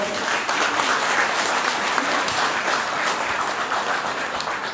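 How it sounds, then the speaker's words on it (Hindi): An audience at a welcoming ceremony bursts into steady, dense applause, many hands clapping continuously at close range for several seconds. "तो आप सभी लोग तालियां बजाकर उनका स्वागत करें।"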